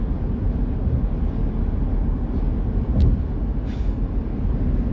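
Road and wind noise fill the inside of a car moving along a highway at night, a steady low rumble with a couple of faint passing hisses and no talking.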